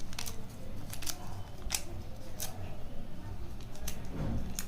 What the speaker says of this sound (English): I tore some paper like this.